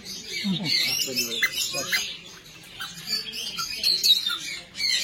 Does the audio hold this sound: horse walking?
no